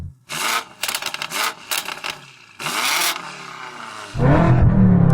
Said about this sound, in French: Yanni, fais rugir ta voiture.